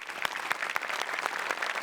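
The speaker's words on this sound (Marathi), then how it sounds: "जोरदार टाळ्या." Studio audience applause on a Marathi comedy show, Hasyajatra: a brisk, even patter of many hands with sharper individual claps standing out, moderately loud and without talk.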